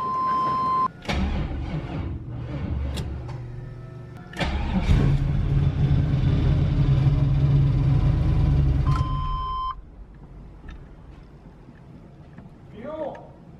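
The LS-swapped Camaro engine cranks in bursts with a steady electronic tone before and after, the starter churning loud and close for several seconds before cutting off, then fading to quiet shop noise.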